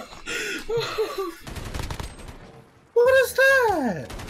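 Video game gunfire bursts out in loud stretches, with a talking voice in between and sweeping tonal sound effects near the end.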